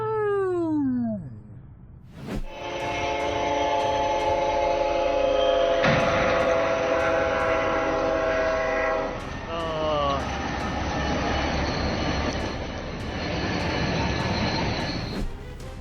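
A train at a North Carolina rail crossing, during a staged collision with a vehicle, sounds a loud, sustained horn for over ten seconds while crossing bells tick steadily in the background.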